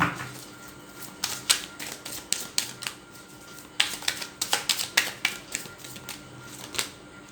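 Tarot cards shuffled by hand at close range, a quick crisp riffling patter in two bursts separated by a brief pause, with no speech.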